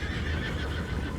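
A horse in Red Dead Redemption 2 gives a short, quiet whinny, with faint hoof clatter beneath it.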